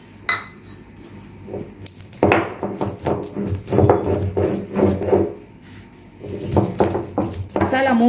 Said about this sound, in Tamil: மிளகு, சீரகம், முழு தனியா இது 3த்தையும் நம்ம பவுட்ரு பண்ணி எடுத்துக்கலாம்.